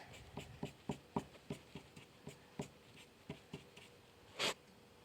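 Pencil drawing a keyboard on paper, heard as a series of short, close scratchy strokes in an irregular rhythm, with one longer, brighter scrape near the end.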